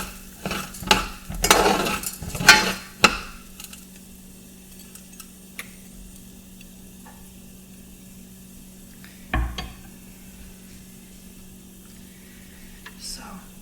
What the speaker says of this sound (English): So just let that sizzle for a bit.